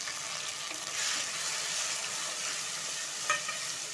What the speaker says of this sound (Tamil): தக்காளி வதங்கி வந்துருச்சு